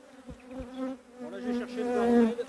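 Honeybees swarming around an aggressive hive during a varroa check, a close, loud droning buzz that rises and shifts in pitch as they fly past.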